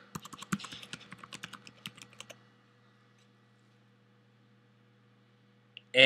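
Fingers tap out a quick, irregular burst of keystrokes on a computer keyboard, close and fairly soft, for about two seconds before falling silent, ending with a sudden loud noise.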